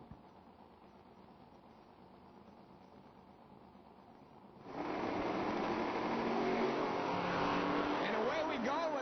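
A flamed Corvette from Coshocton, Ohio, drag racing at an IHRA Pro Am event in Cordova: a low engine drone under announcer talk, then a sudden loud roar as the cars launch and hold at full power.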